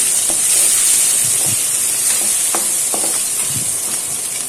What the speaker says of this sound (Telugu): వాటిని బాగా ఫ్రై చేసుకోవాలి మనం అప్పుడే టేస్ట్ బాగుంటుంది